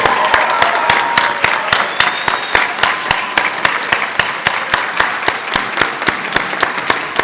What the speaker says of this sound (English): Give them a big round of applause, your nursing class of